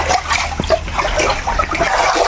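A hand stirs and splashes the water in a fish tank holding young oscar fish, making continuous close sloshing and dribbling with a few sharper splashes.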